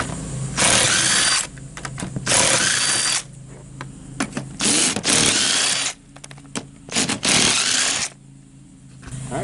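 Power tool removing the seat bolts in a Toyota Sequoia, several loud bursts of whirring and ratcheting in quick succession, broken by short pauses and clicks.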